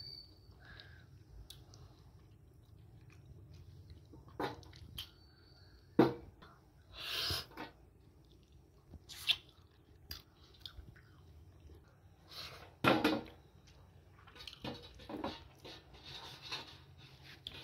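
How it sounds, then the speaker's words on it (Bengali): Someone chews and bites into a chicken leg piece at close range, with scattered wet chewing bursts and crunchy bites between quiet pauses. "মনে হচ্ছে চিকেন লেগ পিস খাচ্ছে"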